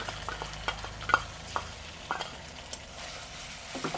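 Onion paste fries in a pan over chopped onions with a soft, continuous sizzle, punctuated by repeated sharp scrapes and taps of a spoon stirring it.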